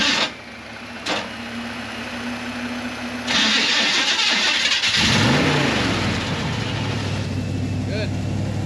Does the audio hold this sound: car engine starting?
yes